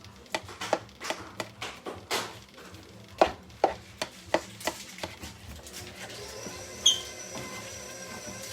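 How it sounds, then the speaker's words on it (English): A knife chops through onions on a board in a steady run of sharp, close knocks, roughly a dozen cuts with brief pauses, fading into quieter kitchen sounds at the end. "Who else cries when they cut onions?"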